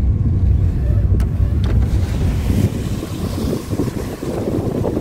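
Heavy rushing water and wind roar around a Parati mini motorhome as it passes beneath a waterfall on a steep mountain road, loud and continuous, with a couple of brief knocks early on.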